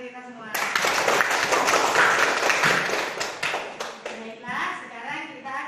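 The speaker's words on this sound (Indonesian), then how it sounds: "Tepuk tangan untuk kita semua." Children clapping their hands together in a classroom, a dense, steady burst of many small claps starting after a brief pause and then tapering off near the end.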